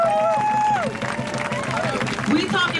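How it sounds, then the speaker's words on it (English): An audience at a Hate Not Welcome rally applauds and cheers as speakers leave the stage, a broad wash of clapping mixed with crowd noise while a voice talks over it. "Clap them up as they go back to their space with us."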